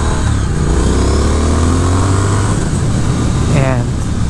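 A 2022 Triumph Speed Twin motorcycle accelerates hard, its engine note climbing steadily through the revs close up under wind noise, then picking up again after a brief shift.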